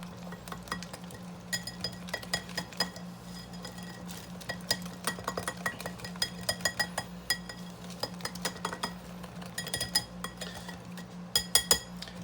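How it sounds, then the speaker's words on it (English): A whisk clinks rapidly against a bowl while mixing a wet batter for fried shrimp, producing a busy, irregular metallic tapping over a steady low hum that continues throughout without speech. "I'm going to whisk that together"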